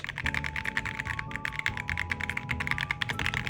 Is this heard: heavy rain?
no